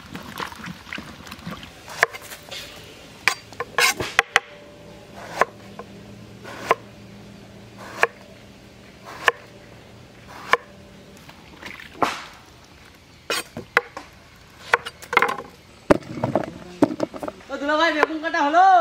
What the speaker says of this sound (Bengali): বেগুনটা ধুয়ে সুন্দর করে কেটে নেব